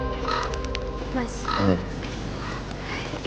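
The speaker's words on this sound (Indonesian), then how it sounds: "itu suara burung gagak ya?" A crow caws a few times in a quiet residential neighborhood, mixed in with a low background hum and indoor ambience.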